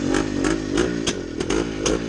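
A 1971 Yamaha RT360 two-stroke motorcycle engine warms up close by, popping and revving unevenly in short bursts with a rough, buzzy note.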